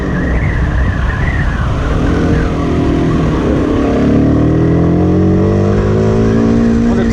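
A CF Moto 150NK motorcycle engine drones steadily while riding, with pitch sliding down and then climbing again as it pulls away after a downshift, close and constant with wind noise.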